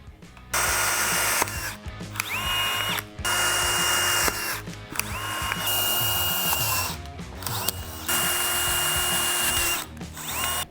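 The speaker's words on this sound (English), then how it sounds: "I'm going to use my 5/16 drill bit and I'm going to drill along the template." A power drill with a 5/16-inch bit whirs in several short bursts separated by brief pauses, close and loud, biting steadily through plastic along a template for a Harley Road Glide audio install.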